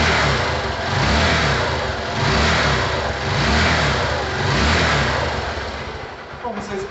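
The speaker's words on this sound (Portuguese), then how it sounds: "a motocicleta em pleno funcionamento" A motorcycle engine running after a cylinder-head rocker arm repair, revving up and down in repeated steady swells, loud and close in a workshop, with a faint clatter near the end.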